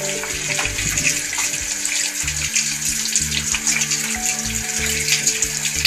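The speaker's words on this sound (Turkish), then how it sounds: "Daha sonra bol su ile duruluyoruz." Hands rinse under a running tap with plenty of water, a steady splashing gush close by. Splatter shifts as the hands move through the stream, with no speech.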